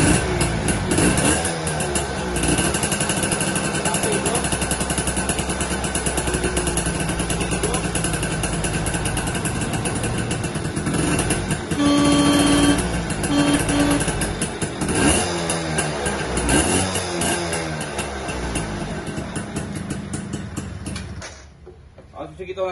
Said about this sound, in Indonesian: Cek mesinnya ya.